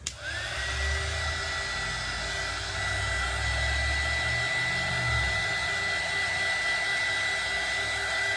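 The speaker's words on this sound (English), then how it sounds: "I need to blow dry this for a second." A hand-held hair dryer blows steadily on a piece of glass art, a loud continuous whirring rush with a constant high whine that holds for about eight seconds without pause.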